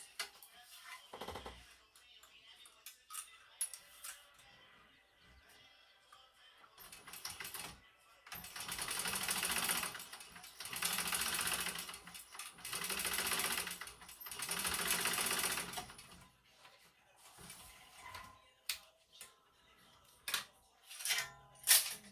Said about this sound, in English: I'm going to sew to box our corners.